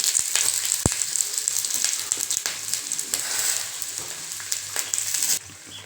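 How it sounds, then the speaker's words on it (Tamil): Chopped ridge gourd peel sautéing in sesame oil for a chutney, a continuous close sizzle with light stirring scrapes and one sharp clack, fading softer at the very end. "தோல் போட்டு நல்லா வதக்கலாம்"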